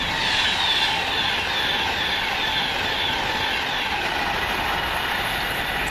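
A passenger train bound for Birmingham New Street rushes past at Cheddington with a continuous loud wheel-on-rail roar and a faint high squeal, steady throughout with no voices.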